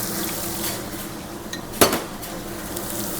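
Garlic sizzling in hot oil with mustard seeds and cumin in a ship's galley, a dense steady frying hiss with one sharp metallic clink of a utensil partway through.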